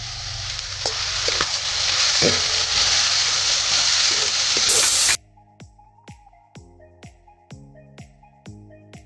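Garlic spitting and hissing as it is fried and stirred in a pan for a matki usal, a loud, steady sizzle lasting about five seconds before it stops and sparse clinks follow.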